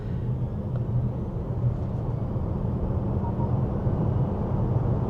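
A Maruti Suzuki eVitara electric car in sport mode accelerates from 0 to 100 with traction control on, giving a low, steady cabin rumble of road and motor noise, moderately quiet and unbroken throughout.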